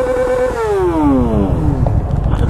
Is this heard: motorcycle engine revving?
yes